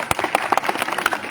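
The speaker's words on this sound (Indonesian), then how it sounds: "Tepuk tangan buat Mbak Nafisa" Audience clapping for speaker Nafisa at a book launch, a short burst of scattered, uneven handclaps from a modest crowd, moderately loud and brief.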